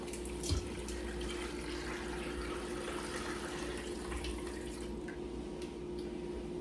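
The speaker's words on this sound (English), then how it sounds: "then we're just gonna top it off with water" Steady broadband rush of running water pouring from a tap into a pot for bone broth, topping it off to the brim, continuous and fairly close, with no talking.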